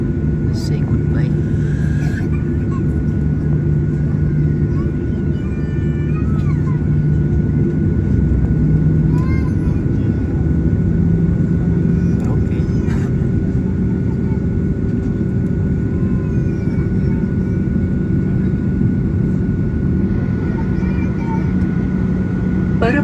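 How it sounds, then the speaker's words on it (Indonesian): Airport tug pushing a passenger airplane back from the gate, a steady loud engine drone with a low hum running throughout, overlaid by a constant tonal whine. "ini mobil ini yang mendorong pesawat ya, karena pesawat ini bisa mundur"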